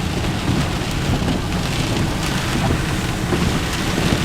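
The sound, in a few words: heavy rain during a thunderstorm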